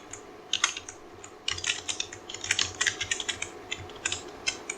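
Typing on a computer keyboard while writing VHDL code, close and clear irregular key clicks in quick runs with short pauses, alone without talk.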